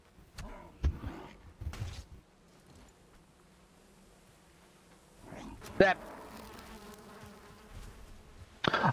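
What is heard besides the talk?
bees buzzing in Valheim video game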